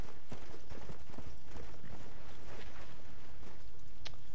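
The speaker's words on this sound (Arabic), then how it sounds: "والله حسه قوي الحصان" A horse's hooves clip-clop loudly and steadily in the Red Dead Redemption zombie game, a quick repeating gait close up with no speech over it.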